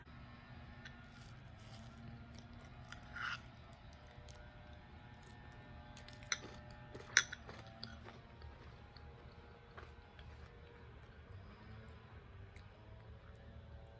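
Someone eats a thick bowl of almond milk topped with peanut butter granola, with soft, wet chewing and occasional crunchy bites and spoon clinks sounding close and quiet over low room noise.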